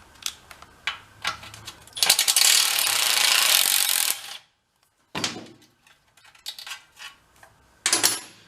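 Ratchet clicking as a 10mm bolt holding the fuel tank on a Mini Harley that sat in a basement for over 20 years is undone, with scattered clicks, a long rapid ratcheting run, then more short bursts.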